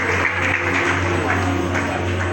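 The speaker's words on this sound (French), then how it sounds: "raison de plus pour que nous puissions applaudir très très fort" An audience applauds at a celebration, a dense steady wash of clapping over a constant low hum, with no clear pauses across the short stretch.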